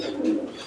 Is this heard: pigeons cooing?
yes